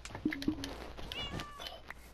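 A Minecraft cat gives a couple of soft, brief meows early on, quiet and close, followed by faint game sounds and a light whistling tone.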